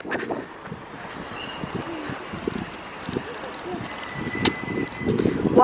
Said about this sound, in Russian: Блин, ветер вообще капец холодный.